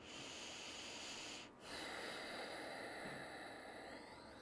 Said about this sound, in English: So Ujjayi breathing in and out through the nose.